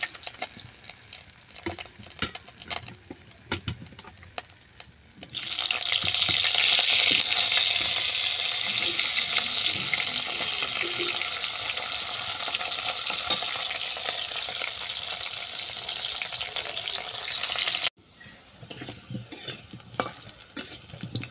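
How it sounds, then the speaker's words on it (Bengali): Potatoes and bitter gourd fry in oil, with scattered clinks of stirring at first, then a loud continuous sizzle for about twelve seconds that cuts off abruptly, followed by quieter scraping and stirring. "আলু আর করলা আলাদা আলাদা করে ভেজে নেব।"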